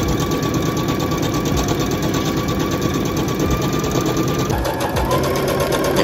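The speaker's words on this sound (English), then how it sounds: "Now, I'm gonna start sewing it from this angle." A sewing machine runs in one loud, continuous close-up whir along the edge of a handmade teddy bear ski mask, with a slight change in tone near the end.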